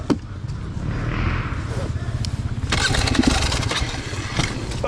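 Motorcycle rear wheel spinning in mud on a muddy trail with tree roots and a stream, the engine revving loudly and steadily with a rising surge partway through.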